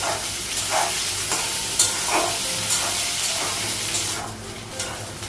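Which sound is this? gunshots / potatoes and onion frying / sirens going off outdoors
potatoes and onion frying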